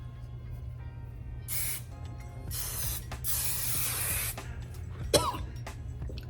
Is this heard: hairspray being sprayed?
yes